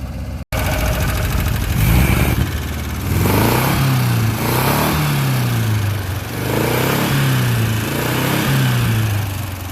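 An old vehicle's engine runs loudly and roughly nearby, surging and sagging in a repeating rhythm as it starts running out of gas, with no talk over it.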